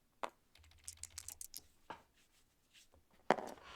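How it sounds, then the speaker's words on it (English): Dice clatter and tumble in a few quick, light rattling bursts during a Tabletop Simulator Attack Wing game, quiet and alone with no talk. "We're going to roll the dice."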